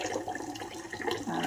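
Water running from a tap to fill a container for soaking ranunculus corms, a soft splashing, gurgling stream, fairly quiet and uninterrupted.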